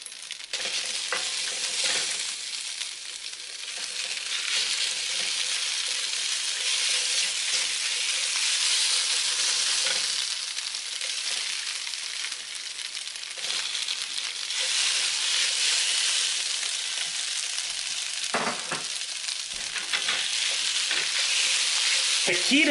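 Rehydrated tomatoes frying in a pan with garlic scapes, a loud steady sizzle and hiss close up, with occasional stirring scrapes and clinks over the constant frying noise.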